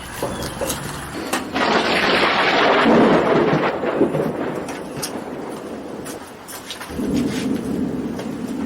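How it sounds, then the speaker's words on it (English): Steady rain hisses over a broad wash of noise, swelling louder midway with low rumbling, then easing and returning toward the end. "here comes the rain."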